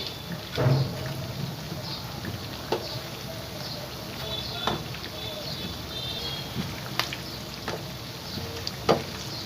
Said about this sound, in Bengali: একটা পিঠ ব্রাউন কালার হয়ে ভাজা হলে আমি উল্টে পাল্টে দিচ্ছি চপগুলোকে।